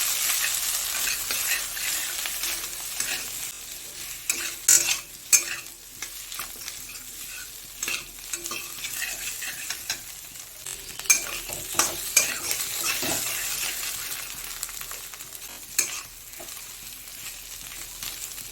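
Ginger paste and slit green chillies fry in a pan for fish jhal, giving a steady oily sizzle with repeated spoon scrapes and stirring clatter close by, with no talk.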